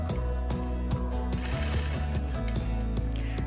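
A sewing machine stitches a quilt block with a steady, rapid mechanical chatter and ticking clicks, close and loud with no talk.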